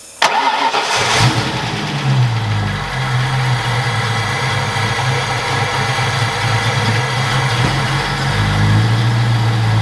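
A Ford Galaxie's engine cranks and catches, then settles into a steady, loud idle that rumbles on without a break.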